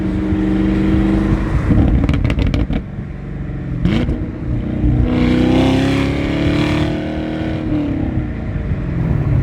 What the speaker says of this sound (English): Right now we're just cruising in 6th gear in the left lane, and you can listen to how quiet this car is